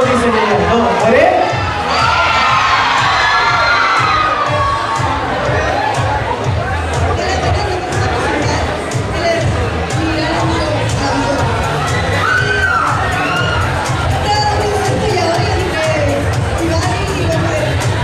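A crowd of children at a cosplay fan event shouts and cheers loudly and continuously, with overlapping screams and chatter, while people talk over the din.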